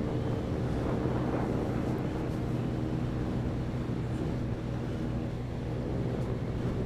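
A Honda Beat scooter held at full throttle on an uphill road, its engine droning steadily and loudly under heavy rushing wind noise, with no break in the sound.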